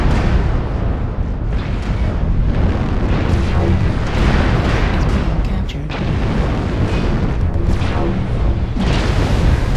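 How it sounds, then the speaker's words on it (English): Missiles fired from an Atlas mech in a MechWarrior video game explode in a dense, continuous roar of booming blasts and rumbling, loud and near with brief pops throughout. "Atlas, missiles away."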